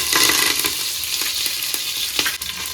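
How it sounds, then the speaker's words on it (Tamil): Dried red chillies and curry leaves fry in hot oil for sambar rice, producing a close, continuous sizzle broken by sharp crackles and pops. "காஞ்ச மிளகாய் பிச்சு போட்டேன் கருவேப்பிலை போட்டாச்சு"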